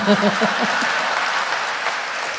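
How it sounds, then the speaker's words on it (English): An audience at an onstage conversation event gives a continuous round of clapping, loud and steady throughout, with a voice briefly audible at the start. "I'm clearly noticing who is clapping and who is not"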